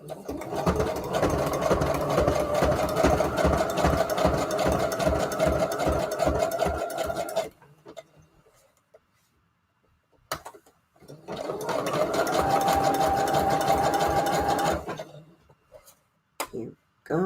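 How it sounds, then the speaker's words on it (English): A sewing machine runs a standard zigzag stitch around a title on a Christmas junk journal page, whirring rapidly in two long bursts with a pause between, close and loud. "let's just sew around the title for now. And I'm just going to use the standard zigzag number"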